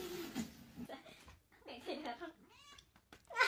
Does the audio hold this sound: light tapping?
no